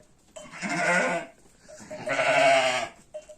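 Sheep bleating close up in a spacious new barn, two long wavering bleats with a short gap between them and no talking.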